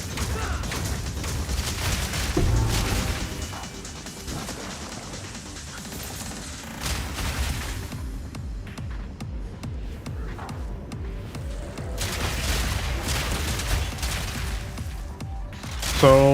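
Grenade skills go off in Path of Exile 2: dense, rapid volleys of explosive bursts and crackling impacts keep layering over each other, with mechanical clanks and busy game effects throughout.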